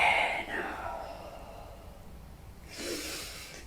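A slow, deep breath drawn in through the nose, close and soft, rising then fading, followed by another airy breath.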